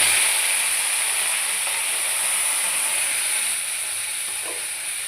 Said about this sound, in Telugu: పల్లీలని ఇలా కొంచెం రెడ్ కలర్ వచ్చే వరకు మంచిగా నూనెలో ఇట్లా వేయించుకోవాలన్నమాట.